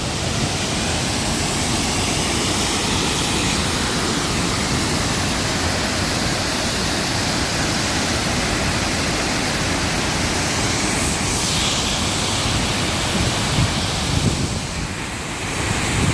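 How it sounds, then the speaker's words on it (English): A backyard waterfall in spring pours in a loud, steady, broadband rush that stays unchanged from start to finish, heard close and alone with no voices. "So this is the waterfall in our backyard."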